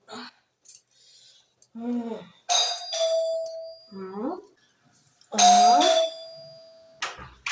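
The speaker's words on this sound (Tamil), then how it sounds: "இத சொல்லத்தான் காலிங் பெல் அடிச்சியா" A doorbell sounds twice, each time a bright electronic ding-dong chime. People talk between the two rings.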